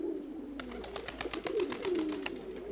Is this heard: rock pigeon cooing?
yes